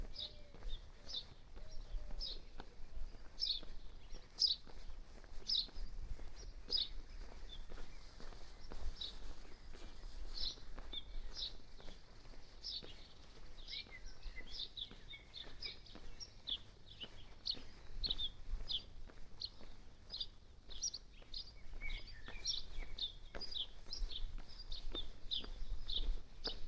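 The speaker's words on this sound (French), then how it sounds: "On n'entend que les oiseaux." Birds chirp and twitter steadily through a calm Dutch street just before six in the morning, small bright calls scattered over a faint background with soft footsteps walking along.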